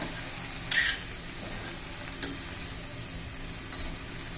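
Okra stirred with grated coconut in a pan for a fasting dish, a soft steady sizzle with a few sharp scrapes of a spoon against the pan.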